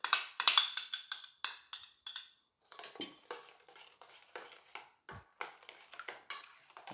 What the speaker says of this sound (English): mix properly the cubes inside our paste